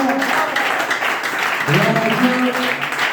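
A church congregation applauding to acclaim the Lord, a steady wash of clapping filling the whole moment, with voices and harmonic tones rising over it partway through.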